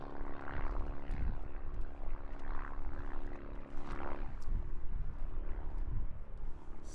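A Laser 200 aerobatic plane flies at an aerobatics championship. Its distant propeller drone stays faint and steady, with no speech.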